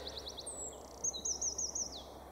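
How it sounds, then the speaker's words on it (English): Small songbirds singing in woodland: a short run of repeated chirps, then high, thin, trilling warbler phrases, fairly close and clear over a quiet background hum. "And other warblers that are yet to be identified."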